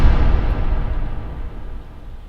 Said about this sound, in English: That's a powerful sounding gunshot.